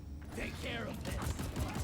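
A weapon reloads in the Deep Rock Galactic video game with a quick series of mechanical clicks, ratchets and metallic clacks, close and fairly soft, amid game noise.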